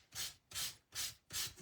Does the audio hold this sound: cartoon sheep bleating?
no